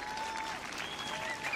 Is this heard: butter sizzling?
no